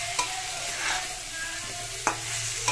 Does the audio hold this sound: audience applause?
no